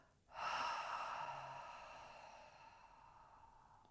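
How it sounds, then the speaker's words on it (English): A slow, deep breath drawn in and let out in one long, gentle exhale during a yoga flow, close and soft, fading gradually with no talking over it. "take a lovely inhale through the nose and out the mouth. So inhale, big inhale, and then a lovely long exhale"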